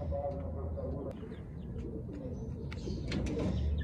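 Pigeons coo in a mini zoo cage, soft repeated low coos under a steady rumbling background, with a few faint chirps and clicks scattered through.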